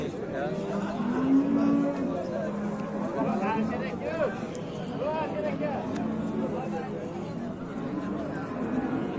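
Cattle moo repeatedly at a livestock sale, one loud close bellow followed by further lowing calls, with a crowd chattering throughout the background.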